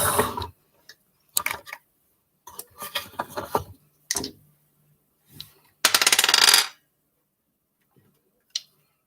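Small dice clatter and tumble across a hard surface in several separate bursts of sharp clicks and rattles, with quiet gaps between rolls.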